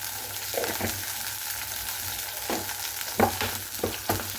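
Dried red chillies and nigella seeds fry in hot oil with a steady close sizzle, and a few sharp pops and stirring scrapes break through it without any voice.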